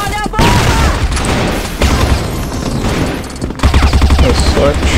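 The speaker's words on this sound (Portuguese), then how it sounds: "É só atirar, é só atirar, criaturas." Rapid gunfire from the online shooter CrossFire, with a CheyTac sniper rifle in use, bursts and booms packed close and loud across the whole stretch, with a dense rattling volley near the end.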